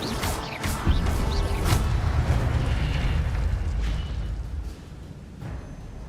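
Fire spell cast in the Hogwarts Legacy video game, a loud roaring whoosh with booming low rumble that swells over the first few seconds and then fades into a lower sustained rush.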